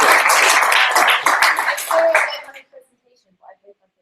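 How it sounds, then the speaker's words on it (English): A crowd at a charity jamboree claps in a round of applause, a loud burst of many hands that fades out after a couple of seconds into near silence with a few faint sounds. "Let's have a round of applause."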